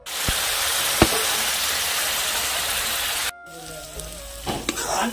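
Onion, garlic, cumin, black pepper, ginger and red chilli powder frying in a pan as a masala, giving a steady close sizzle that drops off abruptly near the end, leaving quieter clinks and kitchen noise.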